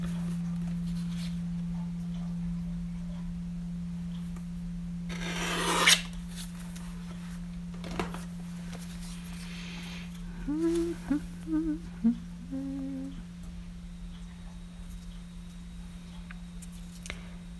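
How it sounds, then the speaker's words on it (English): Paper is trimmed at a craft table with one brief rasping cut followed by a few small clicks and snips, faint and close over a steady electrical hum. "I'm just going to trim it because it's a little too big"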